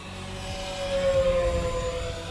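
Electric motors of an E-Flite Twin Timber 1.6 m twin-motor RC plane whine during a full-throttle pass, a steady tone that swells and dips slightly as the plane flies by at a distance, with no voices.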